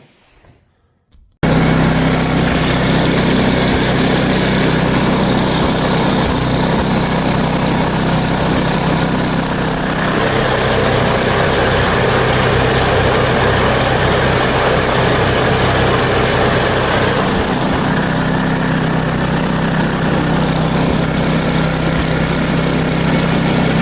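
An old snowblower engine of over 20 years runs steadily on its own power after a restart, a loud, continuous close-up drone with a slight change in tone partway through; no talking.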